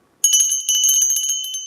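A small hand bell gives a bright metallic ring in a quick series of rapid strikes. The ringing is close and loud, with a short pause partway through, and no voices are heard.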